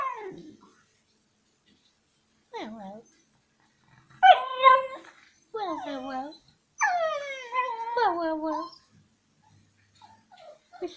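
A puppy howls and whines in several drawn-out, wavering bursts separated by short pauses, close and clear.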